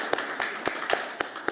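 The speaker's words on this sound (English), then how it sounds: "we should give her a round of applause for sure" Conference attendees at a business leadership session on the Global Stocktake applaud New Mexico's governor, Michelle Lujan Grisham, with a few faint, distinct claps at a steady, unhurried pace over low room noise.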